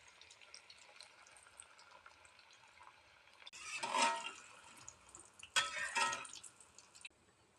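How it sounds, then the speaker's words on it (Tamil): Banana flower vadas drop into hot oil and deep-fry with two bursts of loud sizzling and bubbling, set against a quieter, steady background hiss. "நம்ம வடையை போட்டு பொரிச்சு எடுத்துடலாங்க"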